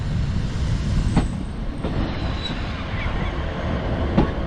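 A Class 150 diesel multiple unit from Ormskirk rumbles into Preston station and terminates, a steady low rolling drone with faint wheel squeals and clicks, moderately near and without talk.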